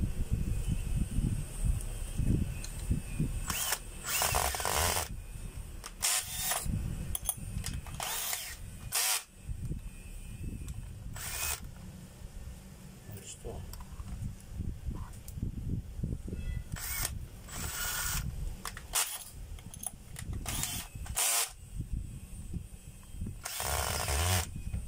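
A power drill drives screws in repeated short bursts, loud whirring spurts separated by pauses and handling noise, close to the microphone, with no talk.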